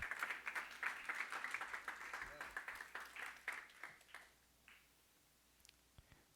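Church congregation clapping in worship, a dense run of rhythmic handclaps with voices mixed in, thinning out and fading to scattered claps near the end.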